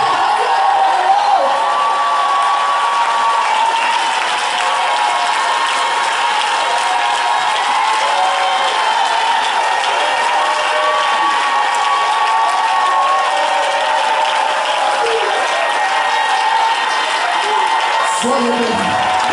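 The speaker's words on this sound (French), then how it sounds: "Est-ce que je peux avoir des enfants qui vont acclamer le Seigneur?" Crowd of children cheering and clapping for the Lord at a French-speaking church service, a loud continuous roar of applause and shouts that holds steady throughout with no pause.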